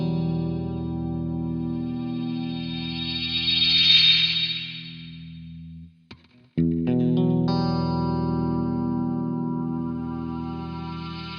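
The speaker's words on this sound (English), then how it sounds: "it can kind of do the space echo thing" A Fuzzrocious Afterlife V2 pedal's echo builds into self-oscillation, a dense droning tone swelling to a bright peak, cutting out briefly with sharp clicks, then surging back into a sustained loud ringing hum.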